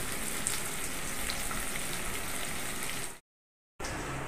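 Onions and spices fry in a pan with a constant, even sizzling hiss that cuts out briefly near the end before resuming.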